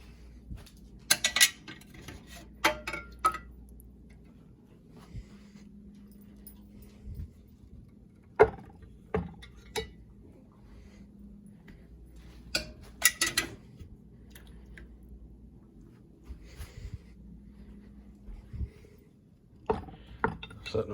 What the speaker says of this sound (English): Now I'll get the lid off here and get our jars out.